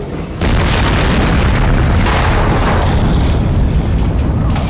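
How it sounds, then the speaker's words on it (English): Tank lids blow off under high pressure at a burning industrial facility, producing a sudden loud boom that swells into a sustained roaring rush, very close and dense from start to finish. "This is how the tanks are supposed to react, with their lids blowing off under high pressure."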